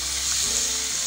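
Onions, capsicum and carrot sautéing in a pan, giving a steady close sizzle with soft stirring scrapes and no voices over it.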